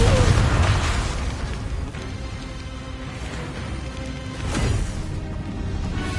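The Confringo blasting spell in the video game Hogwarts Legacy lets off a loud, close explosion that rolls into a long rumbling decay, with a second swell of blast noise near the end.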